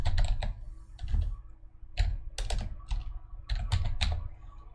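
Close computer keyboard typing in short bursts of quick clacking keystrokes separated by brief pauses, loud and clear with no talk.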